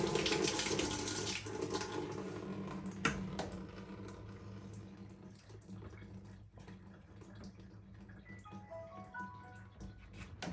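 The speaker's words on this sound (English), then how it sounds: "And also, I can run water out of it." Tap water runs steadily into a sink during household cleaning, a continuous hiss and splash with faint clinks and drips, close by and without speech.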